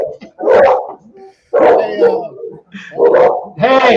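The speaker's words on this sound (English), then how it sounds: "My dogs are going nuts" Several dogs bark in loud, repeated bursts close by, mixed with yips, while people talk over and between the barks.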